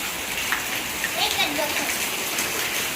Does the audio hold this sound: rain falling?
yes